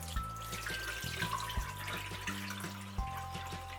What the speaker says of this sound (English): we're going to drain off as much water as we can